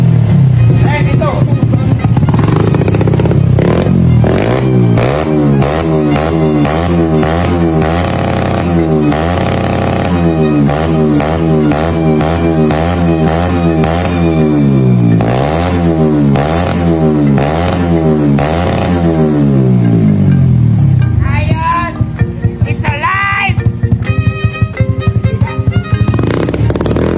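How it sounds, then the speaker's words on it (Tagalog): A Dash 110 superstock motorcycle engine idles with a rapid mechanical chatter, then repeatedly revs up and down in rising and falling surges, loud and close, before dropping to a rough idle with clattering near the end. "Ang ating engine, pakinggan nyo yung makina."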